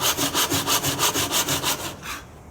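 A hand saw rips back and forth through a wooden board, cutting down for a cross lap joint with about ten steady, even strokes close up before slowing and trailing off.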